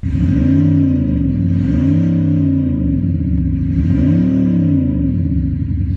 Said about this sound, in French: avec cette icône du pied sur l'accélérateur, vous allez pouvoir simuler une montée en régime